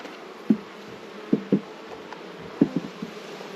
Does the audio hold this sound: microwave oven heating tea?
no